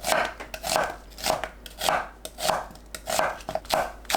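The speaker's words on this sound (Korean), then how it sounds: "양파를 1cm 간격으로 썰어줍니다." Knife slicing onion into 1 cm pieces on a cutting board, a steady series of crisp chops in regular rhythm, close and clear with no talking.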